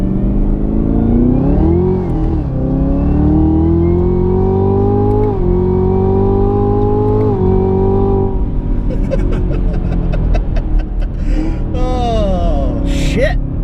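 A 2017 Chevrolet Camaro ZL1 with a 10-speed automatic accelerates hard, its loud engine note climbing steadily through the gears with brief dips at each shift, ending in a rough burst near the end; voices gasp and react faintly over it.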